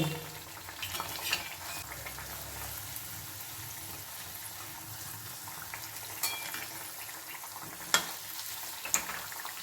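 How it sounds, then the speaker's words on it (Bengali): Bean batter fritters deep-frying in hot oil give a steady crackling sizzle throughout, with a few sharper pops and clinks near the end as they are lifted out; no talking. "লাল লাল করে কিন্তু ভাজা হয়ে গেছে এবার তুলে নিচ্ছি"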